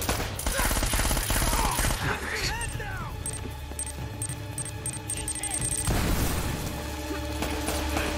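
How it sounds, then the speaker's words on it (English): Rapid gunfire and heavy booms from grenade blasts in a firefight in the video game Uncharted: Drake's Fortune, loud and dense, with explosive bursts near 2 and 6 seconds and a voice speaking over the chaos. "You throwing back-to-back grenades"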